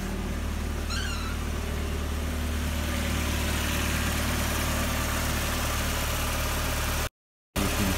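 Cold start of a 1994 Mazda Miata with a 1.8-litre engine, settling into a steady, smooth idle with a constant low rumble throughout, and a brief cat-like squeal near the start.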